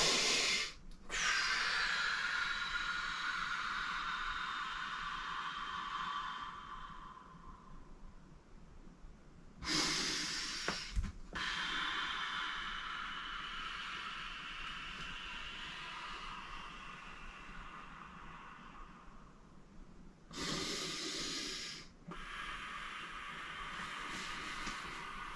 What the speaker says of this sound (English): We're going to use the exhale.